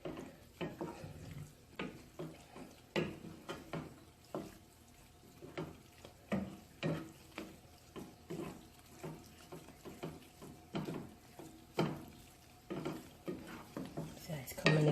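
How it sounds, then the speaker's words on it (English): A spoon stirring red rice with sausage in a pot, giving repeated scraping and clinking strokes in an irregular rhythm, close and fairly quiet, with a faint sizzle underneath. "cut it off and stir it up"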